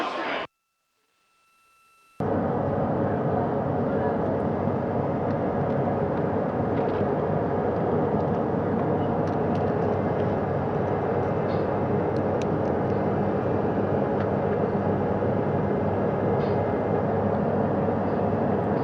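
Navy helicopters hover over the Pacific while splashdown crew are hoisted aboard, a loud, steady rotor and engine roar that fills the scene after a brief silent gap at the start.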